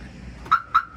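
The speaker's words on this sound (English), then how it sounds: "it came with the Viper alarm, so it does have a Viper alarm" Two short, loud chirps from a Viper car alarm on a 1999 Honda Civic Si, evenly spaced about a quarter second apart over a quiet background.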